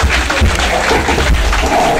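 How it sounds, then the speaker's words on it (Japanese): An audience at a Japanese spinning-top battle tournament in Shibuya claps in a dense, steady wash of applause, close and continuous for a couple of seconds. "皆さん大きな拍手をお願いいたします"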